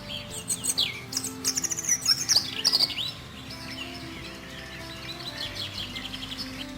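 European robin singing in early spring, clear high warbling phrases and chirps near and fairly loud over the first three seconds, then fainter song continuing in the background.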